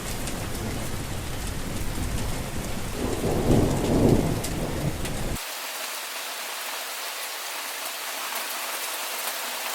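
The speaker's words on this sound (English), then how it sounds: "Look, I hear rain." Rain and thunder effects for a Kennedy High student skit of 'Boots and His Brothers': a loud hiss of steady rain with a rolling thunder rumble midway, then an abrupt cut to thinner, quieter rainfall with no voices.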